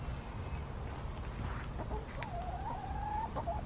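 A backyard chicken gives a drawn-out, wavering cluck over steady low wind and outdoor background noise, faint and somewhat distant.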